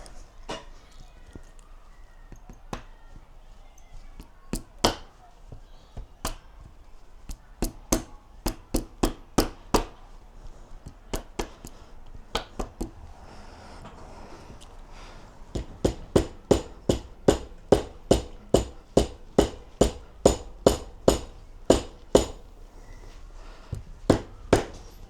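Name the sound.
tapping with rubber end of hammer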